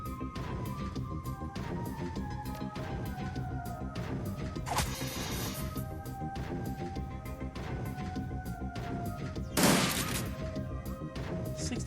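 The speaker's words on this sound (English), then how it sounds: "Let's just try shooting this thing." Gunfire in the Shadowrun Dragonfall video game: a steady rapid rattle of shots over a game music bed, with two louder crashing impacts partway through.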